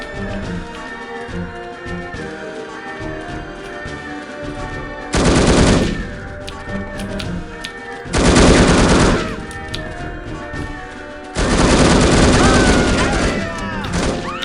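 AK rifle fire in the shooter game No One Lives Forever: three loud sustained bursts of automatic gunfire, each lasting a couple of seconds, separated by quieter game sound and music.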